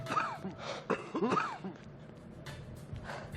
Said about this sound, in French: Ça commence à tousser